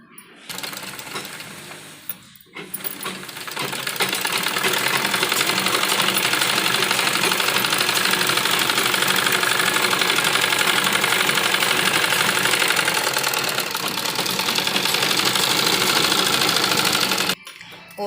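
A sewing machine stitches a pressed seam on a child's bodice, a brief start and stop, then a long, loud, steady mechanical run close by before it halts.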